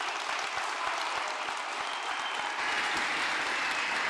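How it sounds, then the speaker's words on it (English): Audience applause fills the room after a talk at Flatoberfest 2021, a dense, steady wash of many hands clapping that holds at full strength for about four seconds, with no voices over it. "Big round of applause for Bob Knodel, y'all."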